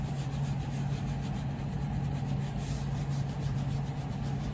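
A rag rubs antique tan coat into tooled floral leather, a continuous close scrubbing swish with a steady back-and-forth texture and no talking.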